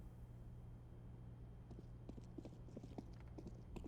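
Footsteps in the video game Counter-Strike on the Mirage map during a tournament match, a quick series of faint, sharp clicks that begins partway through and runs over a low steady hum.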